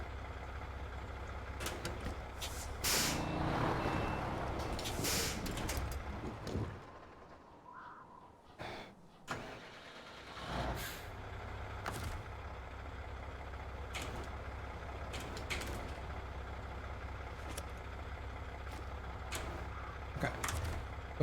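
A truck's engine runs steadily in the off-road game SnowRunner, a low rumbling drone with scattered clunks and bumps layered over it. The drone dips briefly midway, then carries on.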